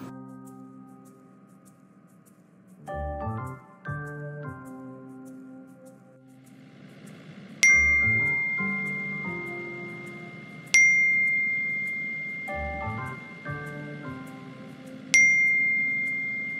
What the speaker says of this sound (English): what are those sounds? My iPhone X.